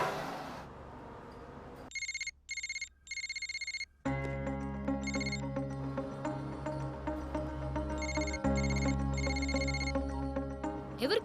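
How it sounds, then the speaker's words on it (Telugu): A phone rings in repeated electronic bursts that stop and start, then music plays as a ringtone, with a continuous tonal pattern carrying on for several seconds. "ఎవరికి కంటిన్యూస్ గా కాల్ చేస్తున్నావు?"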